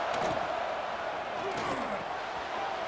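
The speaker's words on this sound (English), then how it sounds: "The Buckeye crowd alive on 3rd down." Loud, steady roar of the Ohio State football stadium crowd cheering on third down against USC, a dense continuous wash of distant voices with a brief slam-like thump near the start.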